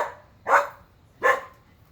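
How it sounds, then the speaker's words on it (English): An Alaskan husky gives two separate, loud, close barks about three-quarters of a second apart, with quiet between them. "Now he's barking at the neighbors."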